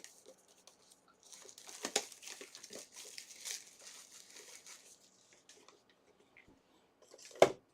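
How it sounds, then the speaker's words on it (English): Plastic top loader packaging for trading cards is cut open and handled, giving close, soft crinkling and rustling, a few sharp snips, and a louder crackle at the end, with no voices. "I'm going to get my top loaders cut open because we're going to need these for some of these cards"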